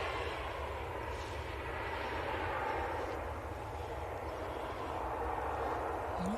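A Loganair aircraft from Exeter arriving on runway 23L at Manchester Airport: a steady, low, distant roar of engine noise that stays faint and even throughout, with no voices.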